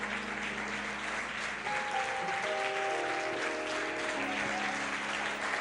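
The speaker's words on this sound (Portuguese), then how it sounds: "Você pode aplaudir o seu Senhor" A church congregation applauds in praise during a worship service, a steady wash of clapping holding at even loudness throughout, with sustained musical tones from a keyboard or organ rising through it partway.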